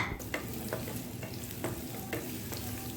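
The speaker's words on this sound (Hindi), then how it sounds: "तो इसमें हम डालेंगे जी प्याज और ज़ीरा और इसको जो है 1 मिनट के लिए हम अच्छी तरह से भून लेते हैं।" Onion and cumin fry in oil in a frying pan, giving a steady close sizzle. Soft stirring scrapes of a spoon against the pan repeat every half second or so.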